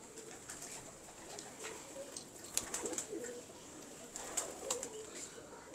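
Pigeons coo softly in a loft, low throaty calls repeating at a distance over a quiet background, with a few brief sharp chirps and faint rustling.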